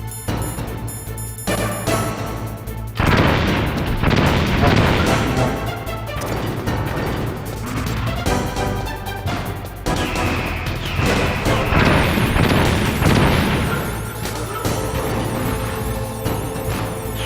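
Dense, continuous barrage of gunfire and impacts striking Snake in the Metal Gear Solid video game, loud crashing bursts layered over steady game music throughout.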